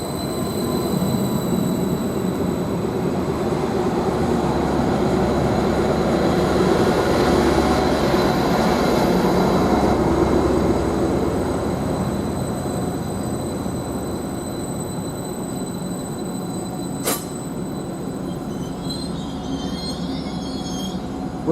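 A Class 755 train at Trimley railway station rumbles past loudly and steadily, swelling midway and then easing, with a faint high wheel squeal and a sharp clank near the end.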